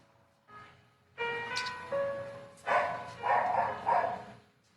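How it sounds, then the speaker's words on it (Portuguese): A neighbour's small dog barks repeatedly at a moderate distance, several sharp yapping barks in an irregular series, with no talking over it. "O cachorrinho do vizinho."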